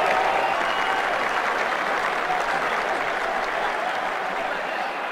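Stadium crowd in the Brian Lara Cricket 2007 video game applauds a West Indies batsman, a broad continuous roar of clapping that holds steady for several seconds and tapers slightly near the end.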